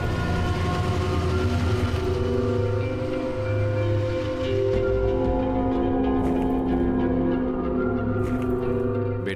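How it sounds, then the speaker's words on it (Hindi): A train slowing to a halt, a loud, close, continuous rumble with steady low drone and faint screeching tones, fading slightly with some light clatter toward the end. "ट्रेन रुकी।"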